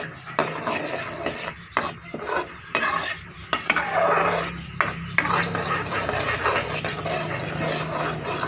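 A spoon stirs lemon chutney with chili, black salt and plain salt, scraping and rasping steadily against the vessel. Gritty strokes repeat close and loud with short breaks, and no one speaks.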